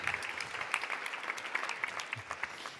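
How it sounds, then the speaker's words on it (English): A small audience at a hackathon pitch event gives soft, scattered applause that stays fairly quiet and brief, with no talk over it. "Big round of applause."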